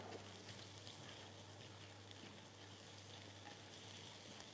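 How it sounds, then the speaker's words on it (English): Steady, close sizzling of matzo frying in a pan, a continuous crackling hiss with faint pops and a low hum underneath. "now I'm going to be frying up my other batch of matzah"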